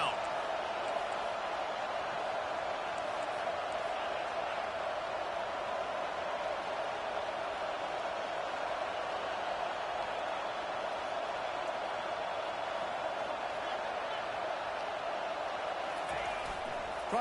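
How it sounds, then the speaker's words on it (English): Steady stadium crowd roar in College Football 25 during a third-down defensive stand, a dense, even wash of voices holding at a constant level without pauses. "Decibels rising as the crowd gets behind this defense on third down."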